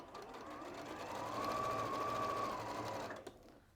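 A sewing machine stitches steadily over a seam of fabric, its close, even motor whir holding for about three seconds before stopping.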